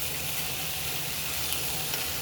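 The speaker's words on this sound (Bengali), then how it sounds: "মিডিলে দিলে এটা একটু ভালো করে ভাজা হবে।" Ground cumin and turmeric frying in a pan for soya curry give a steady, soft sizzle that runs without a break from start to finish, close by and with no one speaking.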